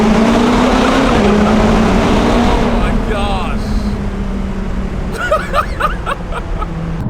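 A McLaren 570 supercar engine revs inside a tunnel, a loud, continuous roar that echoes off the walls and eases slightly partway through, while a voice talks briefly over it.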